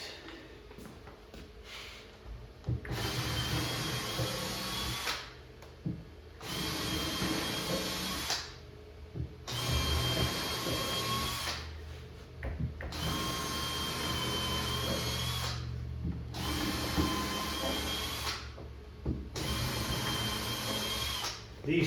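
A power drill whirs in repeated bursts of a few seconds each, with brief pauses between, driving screws into pine close by.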